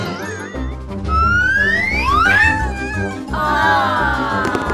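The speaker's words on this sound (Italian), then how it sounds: "Salviamo i gatti!" Several cats meow in rising, drawn-out cries during a playful firefighter rescue scene, the calls overlapping over a steady musical background with a faint tinkling chime.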